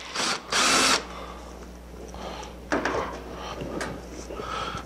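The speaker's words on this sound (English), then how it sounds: "An electric drill is wonderful for this." Close-up electric drill removes screws from an SM025 heating element in two short bursts, the first about a second long, the second brief, with quiet handling noises in between.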